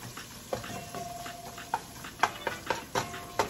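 Ingredients for Jamaican oats dumplings frying in a pan: a low, steady sizzle with scattered soft clicks and scrapes of stirring, a few sharper taps toward the end.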